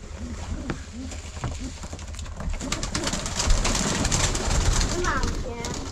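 Homing pigeons cooing close by in repeated low throaty bursts, mixed with wing flutters and rustling, while a person talks over them.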